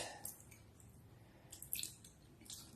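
Water draining from a jar of sprouted grains, a quiet, close drip and trickle with a few soft splashes and squishy bursts, faint and alone.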